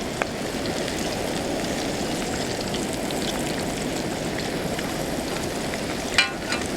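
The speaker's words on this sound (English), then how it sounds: "you're deep frying fish" Steady, dense sizzling and crackling of fish deep frying in hot oil, continuous and close, with a brief clink near the end.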